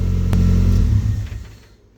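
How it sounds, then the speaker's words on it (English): A Mazda MX5 being prepped for drifting idles with a steady low rumble until a kill switch cuts it, the engine note sagging and dying away into near silence within about a second. "and that's it, killed the engine."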